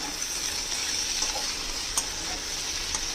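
Small shrimp fry with kundri (ivy gourd) in a hot pan, a steady close hiss of sizzling oil throughout, with a faint clink of a utensil now and then and no talking.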